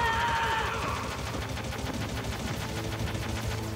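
Rapid gunfire from the video game Metal Gear Solid crackles steadily and densely across the whole span, with bursts of automatic shots overlapping in a continuous fusillade.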